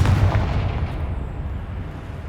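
The Confringo blasting spell explodes in Hogwarts Legacy on PS5, a loud, booming burst that rolls off into a deep rumbling tail over about two seconds.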